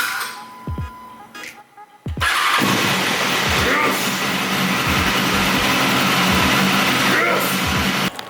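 A BMW S1000RR sport motorcycle engine cranks and catches, then runs loud and steady at a fast idle for several seconds, close by, with brief voices and knocks just before the start.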